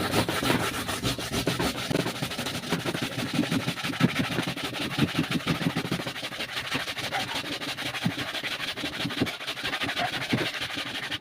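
A coconut grater (kalkaran) rasps steadily with dense rapid scraping strokes, close and continuous for the whole stretch with no talking.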